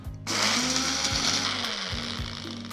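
A mixer grinder runs on dry roasted spices, a loud motor whine with the pitch dipping and recovering rhythmically as the load shifts, continuous and close with no talking.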